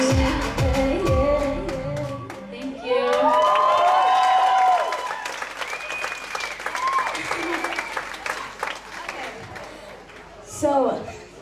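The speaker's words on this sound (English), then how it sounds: "Ready to clap?" Audience applause at a women's poetry slam in Bali, loud and dense, with cheers and voices rising over the clapping before it fades under talk.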